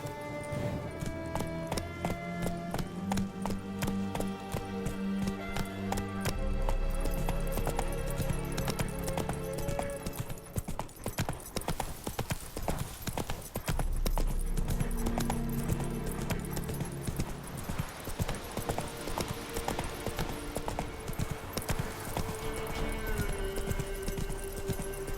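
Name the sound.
horse Roach galloping, hooves clip-clopping, in video game The Witcher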